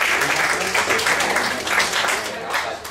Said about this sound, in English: Give Ashley a nice round of applause.